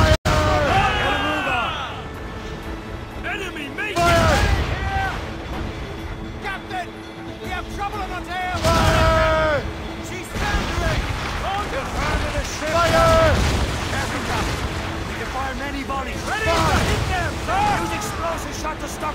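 Gunboat cannon fire in a naval battle in a video game, several heavy booming blasts spaced a few seconds apart amid shouting crew voices, sea noise and battle clamor.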